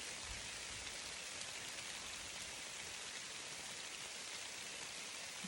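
Light rain falls steadily in the mountains during a bear hunt, a constant soft hiss of drops with no breaks and no voices.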